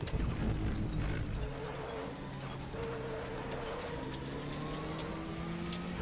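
Heavy GT4 race car engine droning steadily in the RaceRoom racing game, with a mid-pitched hum and rising tone from a loud start easing to a constant, near level with no talk.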